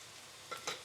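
Curry leaves dropped into hot oil in a pan for a prawn masala, two quick sizzling bursts rising over a faint frying hiss, short and close.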